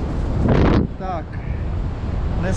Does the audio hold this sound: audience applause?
no